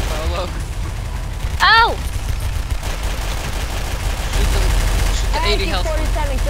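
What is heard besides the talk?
gunfire in the video game Garry's Mod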